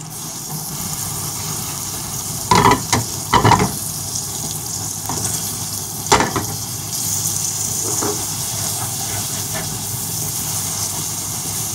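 Tomatoes and green chilies are added to browned minced meat (keema) in a hot pan, a continuous frying sizzle broken by several loud bursts of crackling and stirring scrapes.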